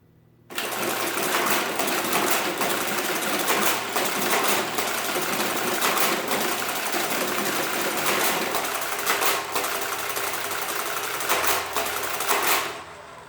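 A loud, steady mechanical clatter and whir of an old-line Marchant mechanical calculator running, with rhythmic grinding ticks, starting abruptly and stopping near the end.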